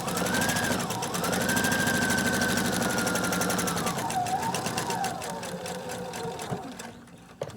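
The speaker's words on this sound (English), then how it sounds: "And just sew all the way across." A sewing machine runs steadily for about seven seconds, stitching straight across a shirt sleeve being made into a small gift bag, its motor whirring loud and continuous before slowing and stopping at the end.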